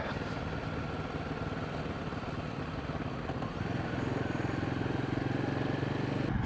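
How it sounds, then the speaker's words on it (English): An old military-green postie motorcycle rides past with a steady engine drone that grows slightly louder toward the end, fairly close, with no clear speech over it. "It's an old postie bike"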